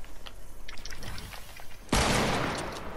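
A sudden loud burst of gunfire in Fortnite, a sniper shot through a wall, cracks in after quiet game ambience and rings on with a broad, noisy tail, then a second sharp hit at the very end.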